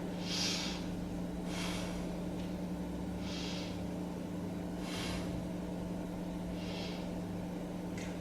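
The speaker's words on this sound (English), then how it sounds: "So let's take 3 breaths here." Slow, deep breaths during a beginner yoga class, several soft airy inhales and exhales spaced evenly apart over a steady low background hum, with no speech.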